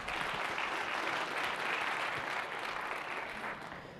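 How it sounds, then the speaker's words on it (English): Audience applause fills a conference hall after a speaker is introduced at a talk, a dense, steady wash of many clapping hands that stays loud throughout and eases slightly at the end, with no talking over it. "Give him a round of applause."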